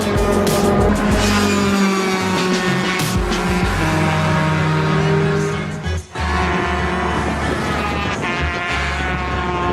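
Go-karts racing flat out on a racetrack at over 100 mph, a loud, continuous high-revving engine whine with shifting pitch as karts pass close, plus a brief dip around the sixth second.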